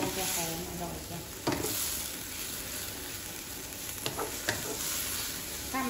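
Glass noodles stir-fried with minced pork and pickled garlic liquid in a pan: a dense, continuous sizzle with a few sharp scraping stirs of a utensil, close and fairly loud.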